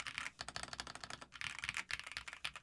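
Typing on an RK A72 ergonomic split mechanical keyboard with a 68% Alice layout: a quiet, fast, uneven stream of clacky keystrokes with brief pauses.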